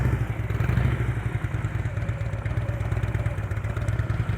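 A motorcycle engine putters at low throttle during slow-speed riding practice in Colorado, a steady close-up pulsing chug with slight rhythmic variations in load.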